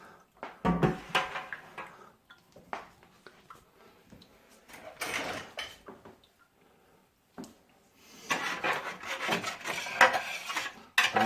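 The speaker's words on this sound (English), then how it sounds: "I scrape up all the goodies on the bottom of the can" A spoon scraping and rasping across the bottom of a hot pan while making brown Christmas gravy from a family recipe, in irregular bursts of scratching separated by quiet gaps.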